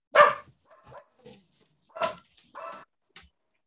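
A dog barks in a few sharp bursts, one loud bark followed by softer yips and two more barks, fairly close during a meeting, with no talk over it.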